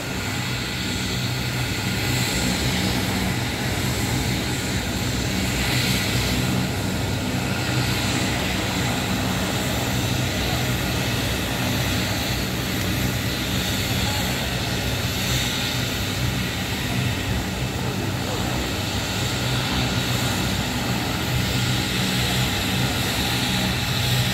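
A continuous engine drone from a helicopter in flight, loud and steady throughout, with a faint rhythmic rotor beating in the roar.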